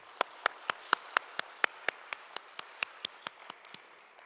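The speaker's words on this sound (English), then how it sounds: "Let us give her a round of applause," Applause from a conference audience at an opening ceremony, heard as evenly spaced sharp claps at a steady rhythm, fairly faint and thin as if from a few people, with no talking.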